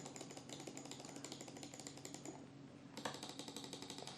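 Repeated button clicks from a Razer gaming mouse, heard close and fairly quiet in a steady run of sharp, evenly spaced taps with a brief lull partway through.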